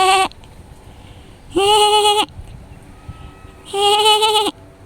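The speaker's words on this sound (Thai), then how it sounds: "นี่มาดูเจ้าแพะกำลังหากินหญ้า" Goats grazing on grass at a sheep farm on a hot midday let out three loud, close bleats, each about half a second to a second long, separated by quiet pauses.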